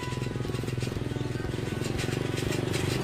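A small motorbike loaded with harvested jackfruit putters along with a steady, pulsing engine drone at low volume, held evenly throughout.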